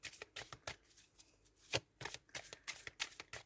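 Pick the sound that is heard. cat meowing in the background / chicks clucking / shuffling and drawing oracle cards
shuffling and drawing oracle cards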